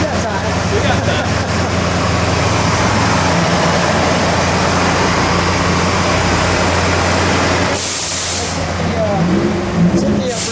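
A green 1970 Mercury Cyclone Spoiler with a 429 CJ V8 running, a loud, steady, thick engine rumble that holds throughout with a brief shift near the end, with voices faintly mixed underneath.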